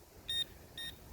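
A metal detector in a field under a tree gives two short, faint electronic beeps, evenly spaced, over a quiet outdoor background.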